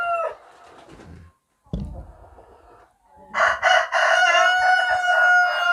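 A KUB-2 village rooster crows several times nearby on a rainy day, with clucking and other chicken calls scattered through the run and a loud, drawn-out crow at the end.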